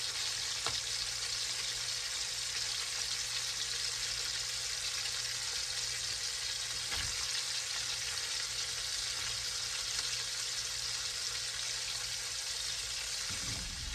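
Loose bratwurst meat squeezed from its casing browns in a hot pan for a chili dip, giving a steady, even sizzle that holds throughout with no talking.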